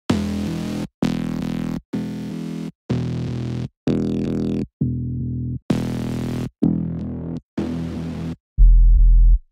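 Synth bass line built in FL Studio from nine mid bass layers and one sub bass, played as ten separate sustained notes in a row with short gaps, the last a deep, heavy sub bass tone, no voices.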